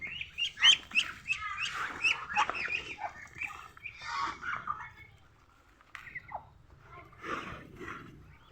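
A flock of ducks being fed, clamoring eagerly with close, busy quacks and chirpy calls that rise and fall, briefly quieter midway before resuming.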